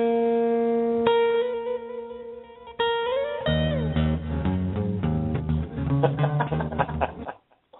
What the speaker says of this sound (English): I'm going to play a theme song.